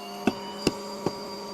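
A budget MIG welder's wire feed being cranked through gives three evenly spaced, sharp mechanical clicks about 0.4 seconds apart, faint and close, over a steady low background hum.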